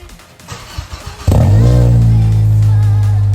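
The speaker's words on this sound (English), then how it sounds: "she's gonna start it up, and it used to rattle a lot at idle" An Acura RSX fitted with a high-flow muffler starts up after some faint shuffling noises, then settles into a loud, steady, close-up idle with a deep, even exhaust drone.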